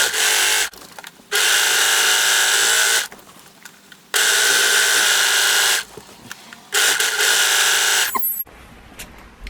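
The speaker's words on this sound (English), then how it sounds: "first I'm going to overlock the side seams" An overlocker stitches the side seams of a skirt in four loud, steady whirring runs of about one to two seconds each, separated by short pauses with small handling noises, and the machine stops for good near the end.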